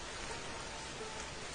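Cartoon rain falls in a steady, dense hiss of drops, even and unbroken throughout the short stretch, with no voices over it.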